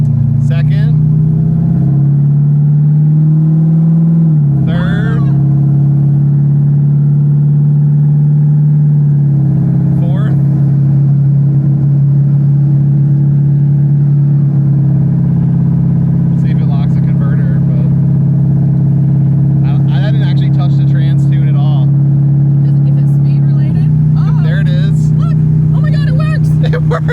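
A GMC Jimmy truck on its first drive, engine droning loudly and steadily, with pitch steps as it shifts up through the gears and people talking excitedly throughout.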